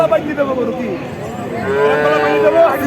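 A dairy cow of a local breed moos loudly in drawn-out, wavering calls nearby at a cattle market, with some background chatter from people around.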